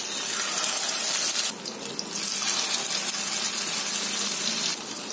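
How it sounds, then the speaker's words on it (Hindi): Mutton shami kababs dipped in egg fry in hot oil over a medium flame, giving a steady, fairly loud broadband sizzle that briefly dips in intensity partway through and again near the end. "मध्य फ्लेम पर ही हम इसे फ्राई करेंगे"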